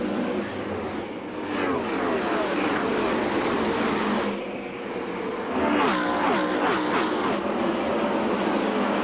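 Indy race cars run laps at Indianapolis during the 1998 Indianapolis 500, giving a sustained engine drone with rising and falling whines as cars sweep past at a distance, over a wash of broad ambient noise.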